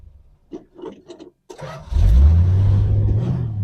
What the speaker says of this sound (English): It's a great running slant 6. That's usually the way it starts,